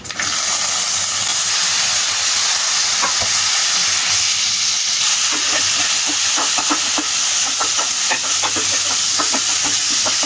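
Dried red chillies and onions sauté in a hot pan for dhaba-style dal fry, giving a loud steady sizzle with steamy hiss and scattered spoon scrapes and clinks building toward the end.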